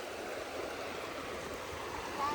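A village river flows steadily where people are fishing with hook and line, a continuous close rush of water with no speech over it.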